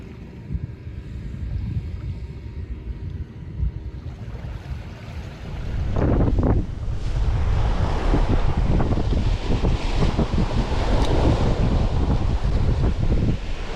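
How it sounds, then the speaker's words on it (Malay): Strong wind gusting over the water while fishing from a boat at a broken embankment in Perak, a loud continuous roar buffeting the microphone, with waves splashing and growing stronger midway. "Kuatnya angin."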